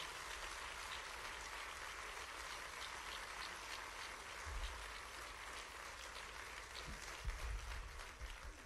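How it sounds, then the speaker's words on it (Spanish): Faint, distant applause at the opening of the Grove auditorium for painter Pablo Ozores, a steady patter of many hands lasting several seconds under a hushed room. "Un aplauso para él"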